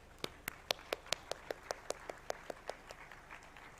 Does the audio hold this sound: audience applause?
yes